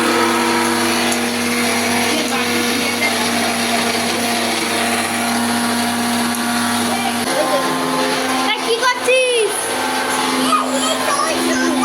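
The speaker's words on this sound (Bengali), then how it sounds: "এখানে এখন মিক্সিতে পেস্ট" A mixer grinder whirs loudly and continuously making a paste at a picnic, its motor pitch shifting partway through, while voices talk over the steady grinding.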